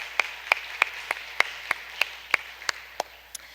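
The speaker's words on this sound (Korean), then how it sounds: "모두를 향해서 한번 더 박수하겠습니다." Audience at a church youth gathering claps in a sparse, evenly spaced series of about a dozen sharp, close single claps with quiet gaps between them.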